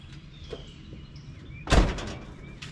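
A single heavy thunk of a truck door, on a truck with a 6.7 12-valve Cummins engine, is heard partway through, loud and close, with faint birds chirping in the quiet background.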